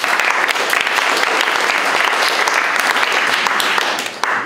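A group claps together in a rhythm exercise, many hands sounding a steady, loud and close stream of applause that fades slightly near the end.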